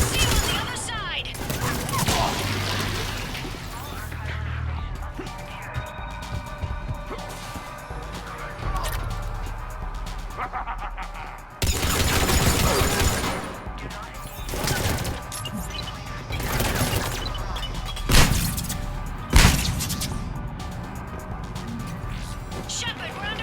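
Sustained gunfire in a Mass Effect Legendary Edition firefight: dense, rapid shots and crashing impacts continue throughout, with voices talking over the combat.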